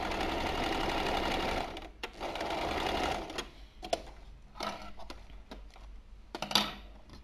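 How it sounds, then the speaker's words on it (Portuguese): A sewing machine stitches a V-neck finish in quick, continuous whirring runs, stops briefly, starts again, then breaks into short bursts and clicks, close and clear, with no voices. "Eu vou costurar até este pique."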